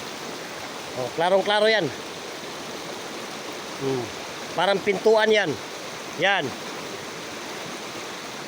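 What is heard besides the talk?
river water flowing at riverbank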